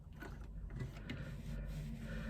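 A sewing machine hand-cranked slowly one stitch at a time, a close, low mechanical whirring and turning of the mechanism that holds steady and continuous throughout.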